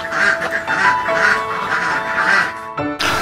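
Farmed ducks in a pen quack in a busy, overlapping chorus of repeated nasal calls, loud and close, with a brief pause before the calling resumes.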